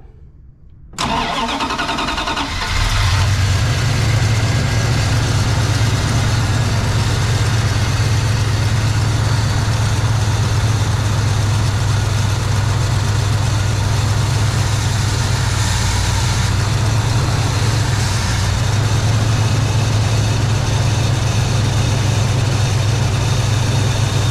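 A car engine, its lines recently bled of air, cranks and fires after a brief silence, then settles into a steady, loud, close idle that runs on evenly for over twenty seconds with no talk.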